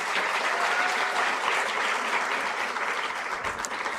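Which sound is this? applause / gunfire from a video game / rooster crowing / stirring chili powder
applause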